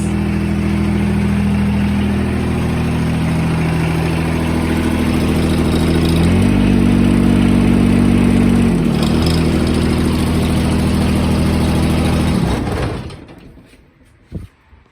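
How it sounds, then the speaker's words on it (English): John Deere 425 and 455 garden tractors, one diesel and one gas, idle with a steady low rumbling hum that holds for about twelve seconds, then cuts off abruptly into near silence. "that was a little sound test. Difference between the diesel and the gas"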